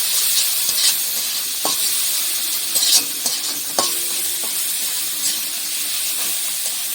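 Spices and fish curry masala with chilli powder sizzle and hiss steadily in a hot pan, with occasional scrapes and clacks of a spatula stirring through the mixture.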